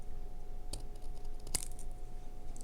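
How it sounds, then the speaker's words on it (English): Two or three sharp, quick snips of scissors cutting overhanging razor blade strip, close up and quiet. "and just snip off that portion."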